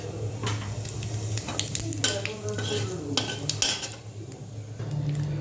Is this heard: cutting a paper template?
no